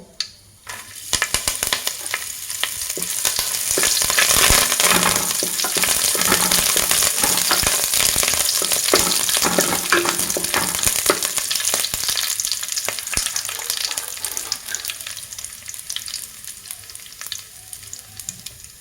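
Curry leaves fry in hot ghee for Mangalore-style chicken urval, giving a loud, steady, close sizzle with crackling and occasional stirring scrapes that runs without pause for the whole stretch.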